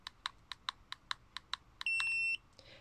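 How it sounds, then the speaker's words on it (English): A run of short electronic beeps from a Mata2E display at a steady pace, followed by one longer steady tone, clear and close with no talking. "You'll hear a beep and the front left position will start flashing."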